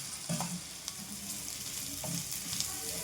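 Cumin seeds and grated coconut dry-roasting in a pan for bamboo shoot sambar, a steady close crackle with a few stirring scrapes and spoon clinks, no talk.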